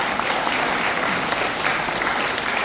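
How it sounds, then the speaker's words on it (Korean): A lecture audience at a regional association's humanities talk gives dense, sustained applause as a lawyer is welcomed to the stage, a steady wash of many hands throughout. "여러분 큰 박수 보내주시죠."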